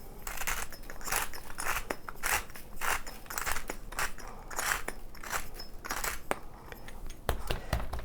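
Black pepper ground coarsely from a mill over a large roast, a run of close, dry crackling and gritty crunching bursts that repeat steadily, no voices.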